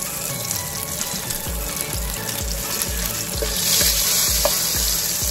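Butter sizzles in a pan while making carbonara, a steady frying crackle under rhythmic scraping strokes of stirring, with the sizzle swelling louder toward the end.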